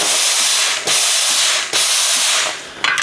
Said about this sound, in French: c'est important de refaire chauffer et de faire aller la vapeur pour enlever éventuellement les petits résidus